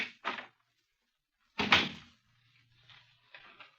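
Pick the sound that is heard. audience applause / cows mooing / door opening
door opening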